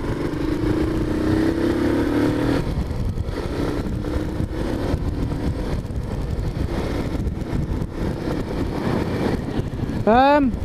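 A small 50cc geared motorbike engine drones steadily over heavy wind rumble while riding, with a brief rising engine rev near the end.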